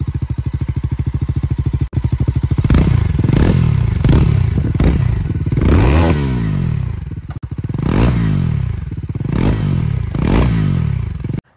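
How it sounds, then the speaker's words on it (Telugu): A Bajaj Pulsar NS400Z motorcycle idles with a close, thumping exhaust beat, then is revved in a series of sharp throttle blips that rise and fall repeatedly, loud and alone. "అట్ లాస్ట్ మనం దీని ఎగ్జాస్ట్ సౌండ్ అయితే ఉందాం"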